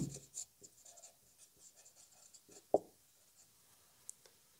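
Pen writing on paper during a geometry lesson, heard as a few soft, scattered scratches with short gaps and one sharper tap midway, close by and quiet with no talk over it.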